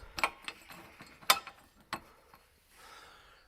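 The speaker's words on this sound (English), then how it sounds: "just getting these bolts out now" Bolts are worked out of a brake caliper on a Jaguar XJ-S with rear suspension lowered, giving sparse ratcheting clicks and metallic ticks up close, quiet between sharp bursts, with no voices.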